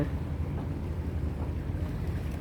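A boat moves across a hazy bay off Tinwan Praya Road at Wah Kwai Estate, Hong Kong, giving a low, steady engine rumble mixed with wind and water wash. No one speaks.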